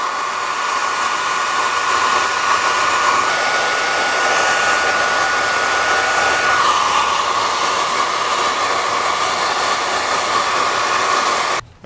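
A heat gun blows steadily on wrinkled fabric headliner in a Nissan Frontier, a loud, continuous airy roar with a whining tone that runs almost twelve seconds before cutting off abruptly.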